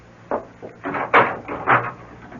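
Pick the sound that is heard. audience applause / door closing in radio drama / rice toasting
door closing in radio drama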